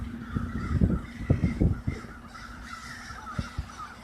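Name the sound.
huge swarm of crows cawing in the sky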